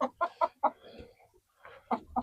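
Several chickens cluck in short bursts as the flock comes in to roost for the evening, the sounds near and fairly clear, with a brief softer stretch in the middle.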